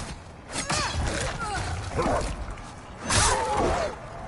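Dog enemies barking and yelping in the video game Demon's Souls, several sharp bursts spread across the stretch amid clashing combat noise and game sound.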